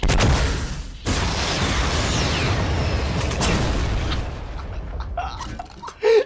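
Loud booming blasts and crackling bursts from rocket fire in Fortnite fill the scene, with a sharp explosion cutting in near the end; no talking.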